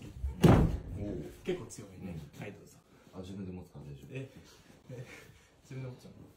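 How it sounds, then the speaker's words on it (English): A door bangs shut once, a sharp, loud thud near the start, followed by steady conversational talking that continues throughout. "Oh, that's the door."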